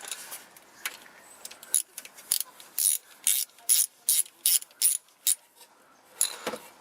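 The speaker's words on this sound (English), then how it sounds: "So now we pull out the back 2 pan bolts." A ratchet wrench loosens transmission pan bolts on a 1999 Mazda Protege with an automatic transmission, its quick clicking bursts repeating in a steady rhythm, close and fairly loud, with no talk.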